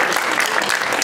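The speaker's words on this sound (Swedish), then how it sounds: "Det var fina med en applåd för allihopa." An audience applauds at a 2016 women's physique bodybuilding competition in Sweden, a short, loud, dense round of clapping from the crowd.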